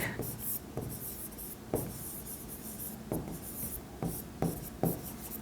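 A pen scratches across paper at close range in short repeated strokes, writing an accounting entry, with faint rubbing between strokes and a quiet room behind.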